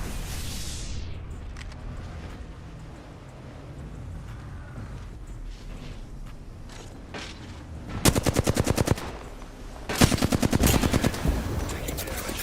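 Bursts of video game gunfire in Apex Legends, two loud rapid automatic volleys near the end over a steady background of game noise and ambience.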